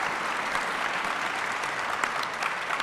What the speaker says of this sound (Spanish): Un aplauso para Jazmín